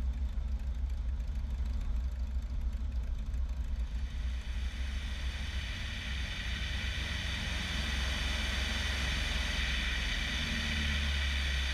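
A Bellanca Decathlon light airplane's engine during a go-around, a steady drone that swells into a louder, fuller roar about a third of the way in as power comes up, heard from the cockpit without talking.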